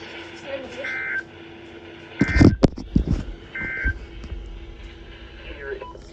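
A NOAA Weather Radio emergency alert system test sends short electronic tone bursts and a harsh, loud burst of data-like buzzing, with a soft background hum between the signals.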